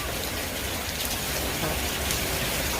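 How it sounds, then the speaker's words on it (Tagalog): Heavy wind and rain make a steady, dense roar of pouring water and gusting air that stays loud and unbroken throughout, with no voices. "Heavy wind. Oh, I mean, yeah, heavy wind and rain."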